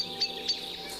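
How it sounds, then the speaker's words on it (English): Hawfinches give short, high, sharp calls while feeding newly hatched chicks in British woodland, two or three quick chirps spaced apart over a faint steady background. "These hawfinches are busy feeding their newly hatched chicks."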